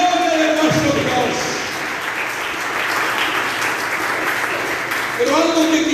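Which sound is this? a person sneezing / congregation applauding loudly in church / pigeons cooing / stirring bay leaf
congregation applauding loudly in church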